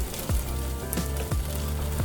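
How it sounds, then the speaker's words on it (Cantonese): Mackerel wrapped in banana leaf dry-frying in a wok over medium-high heat, giving a steady close sizzle broken by a few sharp pops and crackles, with no talk. "我哋就直接攞落去鑊嗰度乾煎"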